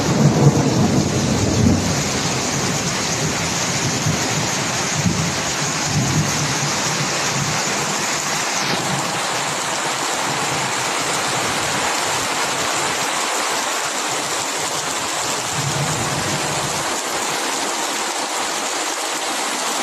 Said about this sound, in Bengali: অলরেডি নন স্টপ বৃষ্টি পড়ছে।